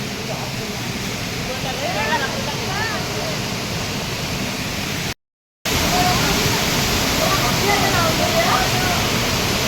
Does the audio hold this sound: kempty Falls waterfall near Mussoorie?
yes